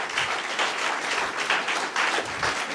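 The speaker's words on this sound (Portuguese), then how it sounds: "Damos um aplauso para Jesus" A church congregation claps together, a full, steady round of applause with irregular swells, fairly close and loud, with no talk over it.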